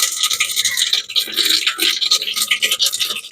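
Mustard and fenugreek seeds crackling and spluttering in hot oil for a toor dal tamarind kuzhambu, a loud, dense, continuous popping and hissing close to the pan.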